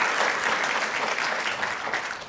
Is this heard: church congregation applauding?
yes